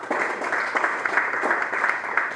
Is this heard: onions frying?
no